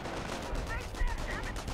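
Rapid bursts of gunfire ring out in a Company of Heroes battle, steady and close, layered over a constant rumble of combat with brief louder cracks and faint game voices underneath.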